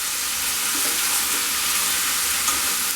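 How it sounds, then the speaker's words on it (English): Onions and tomatoes fry in a pan for a Bengali fish head pulao with flattened rice, giving a steady, close, even sizzle with soft stirring scrapes throughout, no voices over it. "fry it gently till the tomatoes are soft and a little mushy. While our onions are getting fried"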